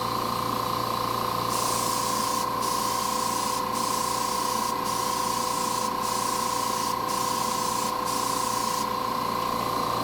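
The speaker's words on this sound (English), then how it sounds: "I've been spraying right on it and now I've got paint all over the base of this thing" A steady, hissing spray of paint in a spray booth runs for about ten seconds, cut by brief pauses roughly every second, over a constant low mechanical hum.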